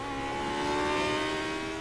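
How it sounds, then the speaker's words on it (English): A race car engine from the Aussie Racing Cars class in Automobilista, revving hard at high pitch with a steady, screaming drone through the whole short stretch. "You really hear the engine being used to its maximum."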